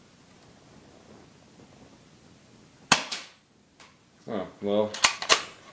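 A CYMA MAC 11 airsoft gun fires a sharp single shot after quiet, followed by a brief spoken reaction and a couple more snapping pops.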